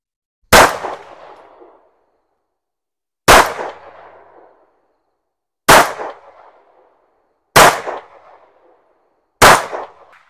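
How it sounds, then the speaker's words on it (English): Five loud, sharp gunshots from a 9mm Dagger pistol fired at a target downrange on a shooting range, spaced roughly two seconds apart, each a hard crack with a short decaying tail, and no talking between shots. "So we'll go ahead, have you shoot at the target downrange."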